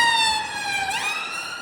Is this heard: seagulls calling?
no